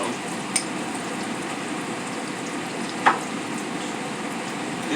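Beer-battered bass fillet frying in hot oil, a steady close sizzle and crackle throughout with a couple of brief pops.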